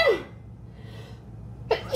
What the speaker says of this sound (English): I'm about to sneeze, sorry.